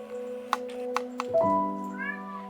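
A cat meows clearly several times indoors, the calls rising and falling with sustained harmonic tones and a few short sharp accents.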